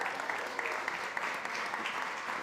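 An audience at a food summit panel during SXSW 2025 gives a round of applause, a steady crowd of clapping hands with a few sharper claps poking through, moderately loud and continuous.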